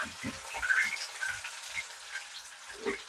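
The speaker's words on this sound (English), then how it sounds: "Frying the plantain on medium fire," Plantain slices fry in a pan over medium heat with a steady, soft crackle and sizzle. Intermittent low knocks and handling sounds sit under it, and no one speaks.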